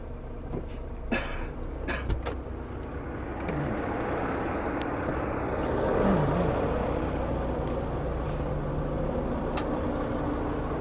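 A truck's engine idles up to a steady, raised rumble while its air brakes are applied, with a continuous low drone that swells slightly midway, broken by a few short clicks and knocks early on.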